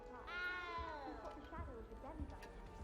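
A small frightened cat in the Hogwarts Legacy video game lets out a drawn-out, wavering meow, then shorter cries, close and clear with faint background.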